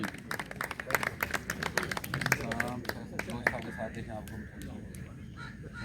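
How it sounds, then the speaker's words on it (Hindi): Audience applause at an anniversary ceremony: a crowd claps steadily in a dense patter of sharp claps through the whole stretch, with voices and crowd murmur mixed underneath. "भरपूर तालियां"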